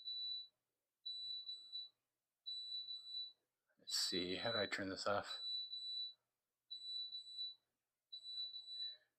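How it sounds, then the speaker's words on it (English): A low-water alarm on a breeder water level device gives close, high-pitched beeps in short bursts about every one and a half seconds. A person talks over them partway through. "That beeping is going to get on my nerves."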